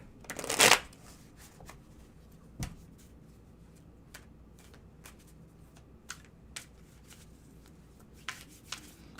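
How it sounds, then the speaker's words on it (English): Tarot cards riffle-shuffled in one loud close burst near the start, then quieter card handling and soft taps scattered through a hushed room. "Let me shuffle away."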